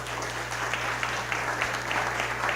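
A church congregation applauds, dense clapping rolling on continuously over a steady low hum.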